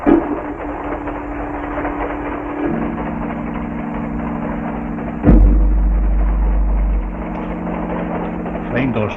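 Fast-running train sound effect in a 1949 radio drama, a steady mechanical drone with a low rumble that swells and shifts midway, alongside a sharp knock and voices speaking throughout.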